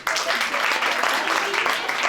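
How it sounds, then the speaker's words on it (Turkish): Audience applause for a young participant at a Turkish school values event, dense and steady clapping from a crowd across the whole stretch, with some voices mixed in. "Kardeşimizi alkışlayalım."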